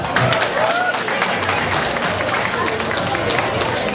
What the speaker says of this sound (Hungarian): kérnék neki egy nagy tapsot